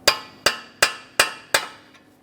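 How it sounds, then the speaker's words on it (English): Five sharp metallic hammer blows on a punch driving the front CV axle out of the wheel bearing of a 2015-2019 Subaru Outback, evenly spaced, close and ringing, alone with no talk. "We'll use a hammer and punch directly in the center of the axle to break it free from our wheel bearing."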